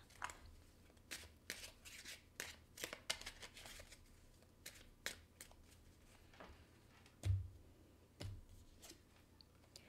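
Playing cards are shuffled to draw one, giving quiet, irregular riffling snaps and soft flicks spread over ten seconds, with a couple of low thumps.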